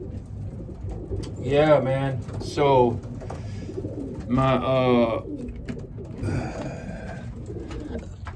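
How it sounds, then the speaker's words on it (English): Racing pigeons coo in an outdoor aviary, with several soft throaty coos in short bursts, close by, while someone speaks briefly. "birds are out here on the aviary because I'm in here, so they're out there."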